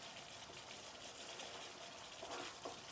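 A butter-based sauce simmers and thickens on the stove, giving a faint, continuous bubbling and gentle fizzing with a few slightly louder pops near the end.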